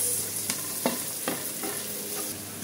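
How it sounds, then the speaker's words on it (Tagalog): Onions sauté in a pan with a continuous bright sizzle, broken by several soft scraping stirs of a spatula at irregular intervals, close and clear with no talking. "Sabay isunod ang sibuyas. Hintayin lang po natin siya na lumambot yung sibuyas."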